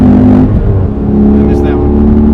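A sports car, either a 2018-2019 Mustang GT or Dodge Challenger, accelerates hard after a downshift to third gear, its engine rising into a loud, continuous throaty roar close by.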